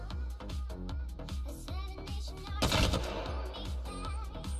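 Rapid automatic gunfire from a weapon in the Apex Legends video game, a loud sustained burst of evenly spaced shots at close range with one heavier blast partway through, no speech.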